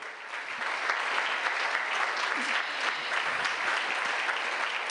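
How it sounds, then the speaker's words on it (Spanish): A church congregation applauds during a sermon, sustained dense clapping from many hands that carries steadily throughout. "¿Cuántos le damos un aplauso al Señor?"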